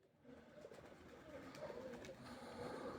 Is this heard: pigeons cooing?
yes